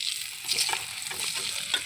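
Amla frying in hot oil with salt and turmeric for pickle, a close, bright, continuous sizzle with faint stirring, heard alone.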